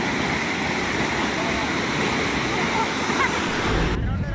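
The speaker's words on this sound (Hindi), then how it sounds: "पानी की आवाज उसके प्रचंड वेग की गवाही दे रही है" Roaring floodwater rushing in a swollen river during monsoon floods in the Himalayan hills, a loud, steady broadband roar that fills the whole clip, close and unbroken.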